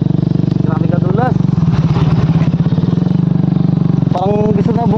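A motorcycle engine drones continuously up close while riding a slippery muddy road, with revving surges, clattering and thumps, and a voice speaking over it.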